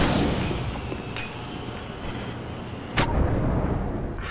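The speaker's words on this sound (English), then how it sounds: "How did I blow myself up?" A rocket explosion in the video game Black Mesa: a dense, loud rumbling blast with a sharp crack near the three-second mark, heavy and close, filling the whole moment without speech.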